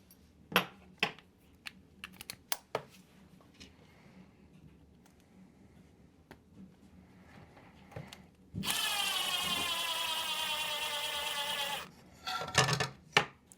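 Power drill running in one steady burst of about three seconds while driving posts into an SWORKS S12-3D RC buggy kit, with scattered clicks and handling of small parts before and after.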